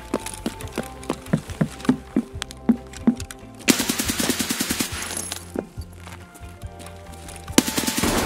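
A bot in Escape from Tarkov fires a gun from behind at the player, a rapid series of sharp, loud shots in a rhythmic burst that turns into dense, noisy gunfire, with further cracks near the end.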